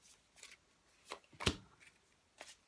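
Tarot cards are handled and shuffled in a weekly reading, giving a series of soft, separate riffles and flicks, one sharper snap near the middle, quiet and close.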